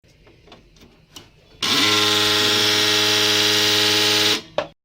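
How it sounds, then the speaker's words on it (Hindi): An HP LaserJet 1020 printer with a faulty motor or gear starts up after a few soft clicks, then runs a loud, steady whirring and grinding drone for almost three seconds before cutting off. "आवाज़ आ रही है। इस प्रकार की प्रॉब्लम या तो मोटर की हो सकती है या फिर कोई गरारी की हो सकती है।"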